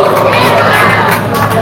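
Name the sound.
audience applauding and cheering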